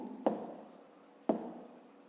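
A pen writes on paper, numbers for a fifth-grade math exercise, with two sharp close taps as strokes begin, each followed by a fading scratch, spaced about a second apart.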